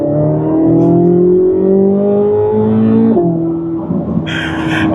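Chevrolet Corvette C8 Z06 engine while driving, a loud steady drone with rising harmonic pitch through a gear, a sharp shift near three seconds, then lower revs climbing again, heard close from inside the cabin.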